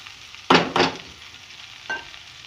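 Okra coated in powdered masala is stirred in a pan: two loud scraping strokes close together, then a softer third, over a low, steady sizzle with no voices.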